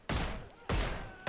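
Three sharp gunshots in the VR game Bonelab with a zero gravity mod, evenly spaced about half a second apart, each a loud close crack with a short decaying tail.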